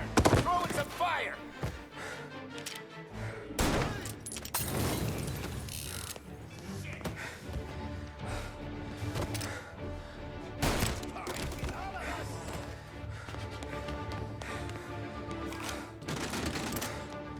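Gunfire in the video game Mafia: repeated loud shots and bursts, spaced irregularly across a busy mechanical background of thumps and clatter, with no talk.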